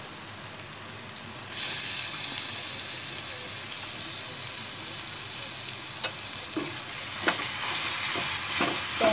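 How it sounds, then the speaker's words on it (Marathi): Tomatoes sizzle and fry in a hot pan for an Indian capsicum bhaji, with a steady hiss that jumps louder when they hit the oil and occasional scraping stirs near the end. "आता टाकते टोमॅटो,"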